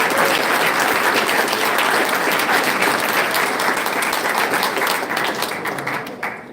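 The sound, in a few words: audience applause at a ceremony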